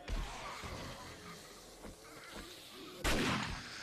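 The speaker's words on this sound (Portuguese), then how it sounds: "Os tiros de 12 hoje pelo menos tá mais delicioso de dar" In the zombie survival game 7 Days to Die, a 12-gauge shotgun fires repeatedly, with several booming blasts spaced irregularly and a loud sharp shot near the end over steady background noise.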